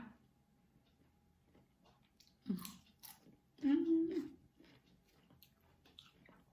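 Someone eats spicy Thai mushroom salad up close, with soft wet chewing broken by two louder crunchy bites, and a voice murmurs faintly now and then.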